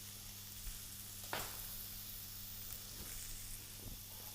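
A pork chop sizzles quietly in a hot pan: a soft, even hiss broken by a couple of brief sharp crackles, over a faint steady hum.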